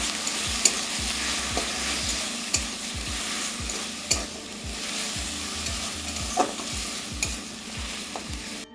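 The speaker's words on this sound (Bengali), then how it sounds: "মশলাটাকে একটু ভালো করে ভেজে নিচ্ছি।" A spice paste of ground garlic, cumin, ginger and dried red chilli sizzles steadily in a pan for paneer curry, with a bright frying hiss under repeated scraping strokes of a spoon and occasional clinks against the pan.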